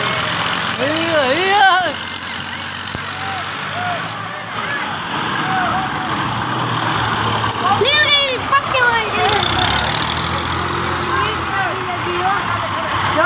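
A tractor engine idles with a steady low rumble underneath, while people talk loudly nearby, including excited, rising voices, over the continuous motor.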